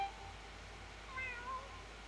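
Gary the snail from the SpongeBob Battle for Bikini Bottom video game gives soft, brief meows, two faint calls over a quiet game background.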